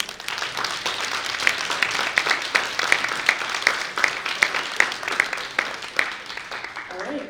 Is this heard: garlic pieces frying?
no